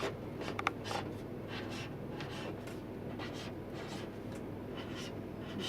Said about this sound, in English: And then we're going to write Kelly.